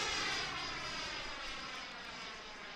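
An airplane flies by over a runway, a steady loud engine roar that slowly fades, with no voices heard.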